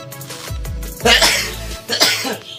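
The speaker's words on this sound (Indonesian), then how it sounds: "Aduh, sampai bersin." A person sneezes once, a sharp close burst with a cough-like rasp, then a short follow-up breath.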